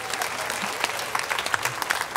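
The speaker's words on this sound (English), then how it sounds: "Let's have a round of applause for him." A live audience at a comedy-music concert applauds steadily, dense continuous clapping filling the room with scattered louder claps standing out, no talking over it.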